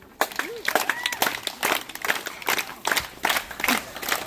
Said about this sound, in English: Help us up the tree by clapping.